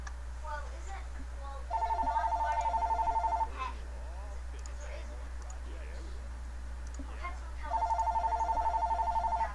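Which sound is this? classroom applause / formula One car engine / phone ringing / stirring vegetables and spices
phone ringing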